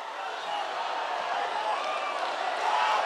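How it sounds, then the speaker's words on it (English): A rugby league crowd on its feet in a standing ovation, a dense, steady roar of cheering and noise filling the stadium, swelling slightly louder near the end. "The crowd on their feet, standing ovation."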